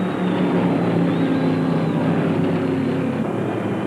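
A 1975 NASCAR Chevrolet stock car at Rockingham races past, a loud, continuous engine drone with a steady pitched tone held throughout and no talking.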